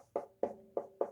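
Four close, dry knocks on a solid ash guitar body, evenly spaced, each a short resonant thump with a brief woody ring.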